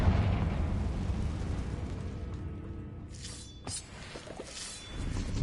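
Confringo spell explosions go off in a tomb in Hogwarts Legacy: a rumbling blast decays over a few seconds, then sharper crackling bursts follow, loud and alone.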